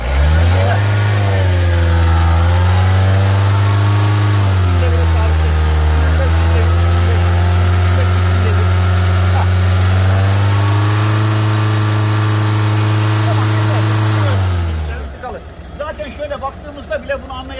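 Car engine held at a steady high rev of about 3000 rpm during an on-vehicle diesel particulate filter back-pressure check, a loud sustained drone with slight dips, cutting off abruptly near the end to quiet.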